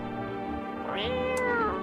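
A grumpy cat meows once in the video game No, I'm Not A Human, a single drawn-out, falling cry rising over a steady hum of game ambience.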